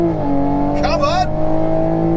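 A tuned 460 bhp stage 2 MKV Toyota Supra engine revs hard in second gear, a loud sustained drone that rises sharply mid-clip, with a voice talking over it.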